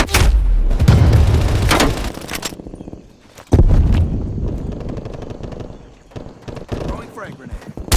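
A frag grenade explodes in the game Call of Duty Black Ops Cold War: a loud close boom with a rumbling tail, followed by continuing gunfire and battle noise, with voices heard over it.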